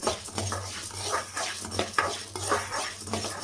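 Curry leaves being roasted in a pan are stirred with a utensil, producing repeated scraping and light clattering strokes in an uneven rhythm over a soft sizzle.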